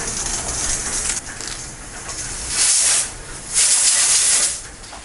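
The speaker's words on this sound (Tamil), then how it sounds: "இதை வந்து 3 விசில் விட்டு எடுத்துக்கலாம்." A pressure cooker on the stove hisses loudly as it releases steam while cooking pongal, coming in two strong sustained bursts after a lower steady hiss, close and with no talk.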